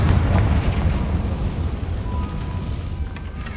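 A Confringo fire spell explosion in Hogwarts Legacy, a loud deep rumbling blast that fades slowly over a few seconds with no talk.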